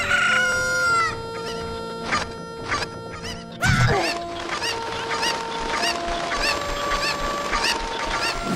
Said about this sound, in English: In Millstone Hamlet, there are some cranky chickens. If you attack one of them, they will all aggro and swarm you